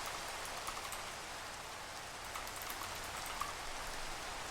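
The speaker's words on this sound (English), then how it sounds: "Oh, goodbye, rain." Steady rain falls in Minecraft, a dense, even hiss with faint scattered drops throughout and no voices.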